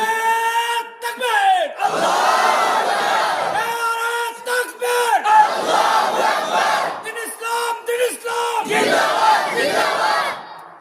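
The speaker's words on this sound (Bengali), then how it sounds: "তাই একটা স্লোগান দান তো দেখি কে পান" A crowd at a religious gathering in Noakhali, Bangladesh, chants a slogan in loud, repeated bursts of many voices in unison, rising and falling in waves across the whole stretch with brief gaps between calls.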